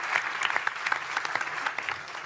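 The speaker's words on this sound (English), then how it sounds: "That deserves a round of applause." An opening-night audience applauds, the clapping steady and moderately loud with individual claps standing out through the short burst.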